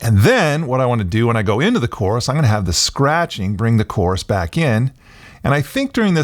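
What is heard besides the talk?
No distinct noise like a dog, phone or traffic.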